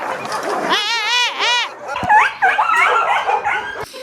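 Many dogs crowded in a public pound in Sparta, Greece, bark, yip and whimper over one another at close range in loud, overlapping bursts, some howling, others giving sharp yelps.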